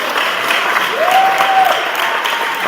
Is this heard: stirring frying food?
no